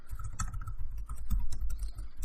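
Rapid typing on a computer keyboard, a dense close stream of clicking keystrokes with uneven rhythm, entering a search query, with no talk over it.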